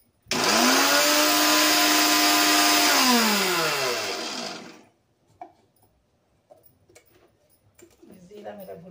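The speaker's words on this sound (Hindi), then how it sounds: "अब मैं जीरा जो है इसमें मिक्सी ग्राइंडर में ग्राइंड करूंगी।" An electric mixer grinder whirs loudly as it grinds roasted cumin seeds: a steady, high motor whine for several seconds, then a descending spin-down and quiet kitchen clatter.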